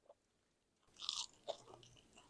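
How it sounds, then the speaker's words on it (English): Teeth crunching into a crispy oven-baked chicken wing with crackly skin: a burst of sharp crunches followed by a second crisp bite, close up and otherwise quiet. "I hear it crunch."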